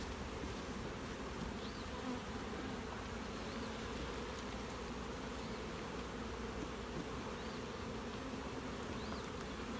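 Honeybees swarm densely around beehives of brood and foundation frames, a steady, close buzzing hum that holds at one level throughout, with single bees whining past now and then.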